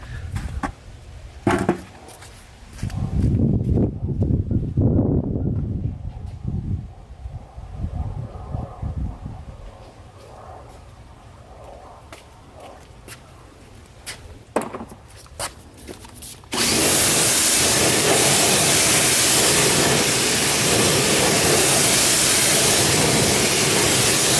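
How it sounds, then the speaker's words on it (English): A high-pressure washer jets water onto a car wheel. It starts after some clattering handling noises and then hisses loudly and steadily to the end. "So let me get the pressure washer out for that."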